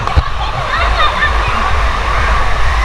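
Water gushes steadily down a two-person water ride slide at a water park, a loud continuous rushing wash with splashing, with voices audible beneath it.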